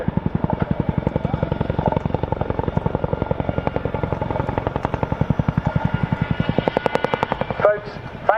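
RAF Chinook twin-rotor helicopter departing at the end of an air show display at Cosford, a loud, steady rapid blade thump filling the scene, fading slightly toward the end.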